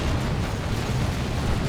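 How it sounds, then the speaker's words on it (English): Blastmaster shot exploding in Dawn of War 2, a dense, rumbling blast wash filling the short clip with continuous crackling battle noise. "Good shot from a Blastmaster"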